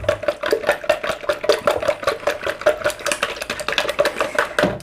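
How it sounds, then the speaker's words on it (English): Eggs being whisked for a cheese omelette, a fast steady run of close, crisp clicking taps of the whisk against the bowl, continuing without pause. "once you put your seasoning in, give it a whisk. see, it doesn't take a lot of whisking"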